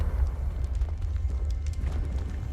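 In Hogwarts Legacy, a Confringo blasting spell sets off an explosion: a deep, continuous rumbling roar that holds steady and loud throughout, with faint crackle above it.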